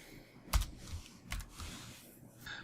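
Quiet, sparse clicks of keys on a computer keyboard during data entry, a few soft taps spaced out over a low background hum.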